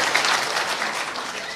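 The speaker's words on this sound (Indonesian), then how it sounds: "Boleh tepuk tangan buat semua." Steady applause from the audience at a political forum held by presidential candidate Anies Baswedan, a dense wash of many hands clapping at moderate level with no voices on top.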